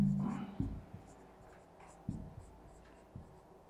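Soft pen or pencil strokes writing numbers, a few short scratches spaced out, close and faint beneath a quiet room tone, with brief voice sounds at the start.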